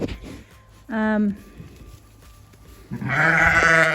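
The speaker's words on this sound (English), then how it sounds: "So, these are my sheep." Two loud, close bleats from ewes ring out, one short and a longer one at the end, over quiet barn background noise.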